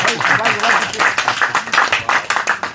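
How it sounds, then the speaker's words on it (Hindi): An audience claps loudly at a song launch. The clapping is close and falls into a rhythmic beat of repeated strong claps, with voices mixed in. "जोरदार तालियां हो जानी चाहिए जरा"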